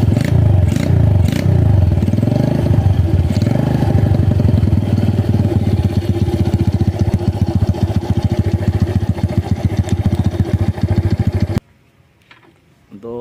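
Honda Mega Pro motorcycle engine fitted with an upgraded exhaust, revved loudly and close by with a dense, rapid firing rumble that holds steady for several seconds before cutting off abruptly.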